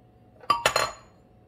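Sliced cucumbers going into a green salad bring a couple of quick, bright clinks of a dish in a quiet kitchen, close and short, fading within a second.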